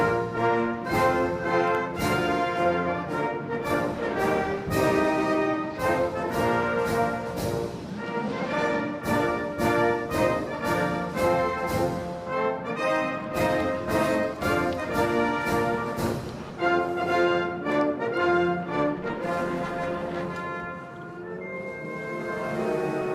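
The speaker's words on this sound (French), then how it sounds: "Nous allons à présent écouter l'hymne national." A national anthem played over loudspeakers at a Clio Cup podium ceremony at Circuit Paul Ricard, continuous rhythmic instrumental music with full harmony throughout, no speech.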